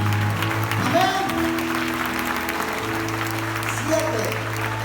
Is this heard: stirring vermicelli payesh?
no